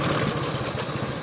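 A motorcycle engine idles low and steady as the bike comes to a stop on a steep mountain descent, with a close, even chugging throb and no talking.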